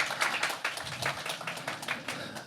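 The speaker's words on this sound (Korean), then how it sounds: "다시 한번 큰 박수 부탁드리겠습니다." An audience at a conference session on corporate social responsibility gives a short round of applause, a modest patter of clapping lasting a couple of seconds.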